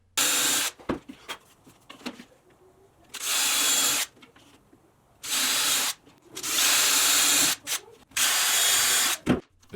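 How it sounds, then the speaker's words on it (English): A power drill bores a series of holes through a scrap wood template for cable railing, with several bursts of loud whirring separated by short pauses and small clicks and handling noises. "I grabbed a scrap piece of wood and I'm ready to drill my holes."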